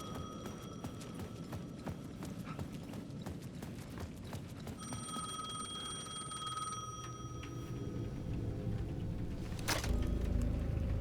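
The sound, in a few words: payphone ringing in the video game Alan Wake 2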